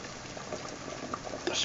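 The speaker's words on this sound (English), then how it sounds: "Oh, we've got a good rolling boil going, which is exactly what we need." A pot of pasta water at a rolling boil gives a steady, dense bubbling and hissing wash close by, with faint talk mixed in beneath it.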